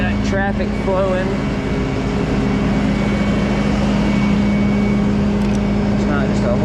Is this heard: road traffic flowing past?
yes